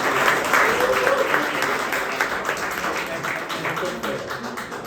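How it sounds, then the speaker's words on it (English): Crowd applause, dense clapping from many hands that starts strong and gradually thins out over a few seconds. "can we give a round of applause to these two gentlemen?"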